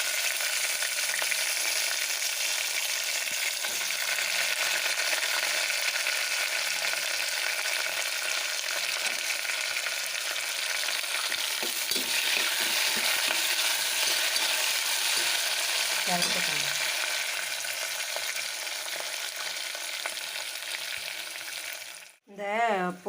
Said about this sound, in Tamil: இப்போ இந்த வெங்காயம், பச்சை மிளகாய் இதில் போட்டு